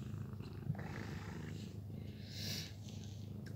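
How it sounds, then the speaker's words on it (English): Steady low purring from a friendly, well-fed cat, continuous and close, with soft snuffling and faint rustling over it. "She's just purring."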